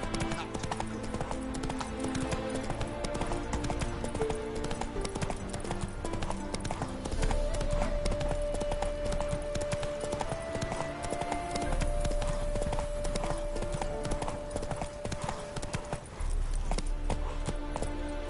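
Roach the horse gallops in The Witcher 3, rhythmic hoofbeats thudding steadily beneath a dense game score with a sustained tone, no talking.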